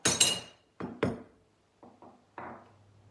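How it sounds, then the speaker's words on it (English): The knob drops off the adjustable throat plate of a Lie-Nielsen No. 62 hand plane and clatters onto a hard surface, giving a sequence of five or six sharp metallic clinks and bounces that fade out, close by and with no talking. "when you take your knob off your adjustable throat plate, it falls out"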